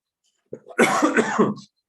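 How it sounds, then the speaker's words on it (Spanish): A short burst of harsh coughing, close and fairly loud, lasting about a second with no talking around it. "Perdón, sigo con tos."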